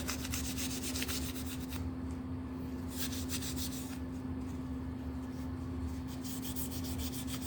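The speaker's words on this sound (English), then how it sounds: "Scrub the rest off." Scrubbing rust off Athearn steel model-train weights by hand, a steady close rubbing and rasping that runs continuously with a constant hum beneath it, no voices.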